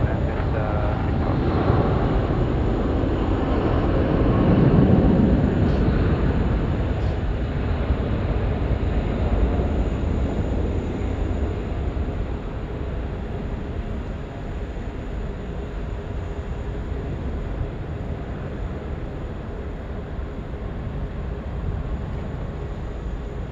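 A Jetstar airliner landing on runway 16 right at Sydney Airport at night, heard from a distance as a broad roar that swells around the fifth second and then settles into a long, steady rumble.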